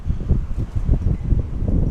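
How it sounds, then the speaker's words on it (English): A strong gust of wind buffets an outdoor softball field, heard as low, rumbling blasts of wind noise that rise and fall across two seconds with no talking. "Strong gust of wind."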